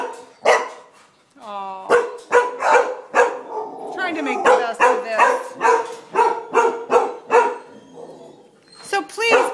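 A shelter dog barks repeatedly up close in sharp, evenly spaced bursts, with a brief whine early on, while a person speaks softly between the barks.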